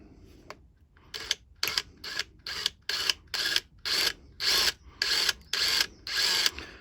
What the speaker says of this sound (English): We're going to drill them out with a backwards running drill.